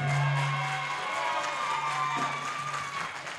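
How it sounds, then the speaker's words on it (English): A crowd at an aldermanic election runoff forum breaks into applause and cheering, a loud, busy wash of voices and clapping that fades slightly toward the end, with a faint steady hum underneath. "Hold your applause, please."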